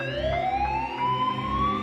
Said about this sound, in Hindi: तभी सायरन की आवाज सुनाई देने लगी।